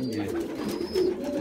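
A black-blue domestic pigeon coos softly and repeatedly at close range over faint background noise.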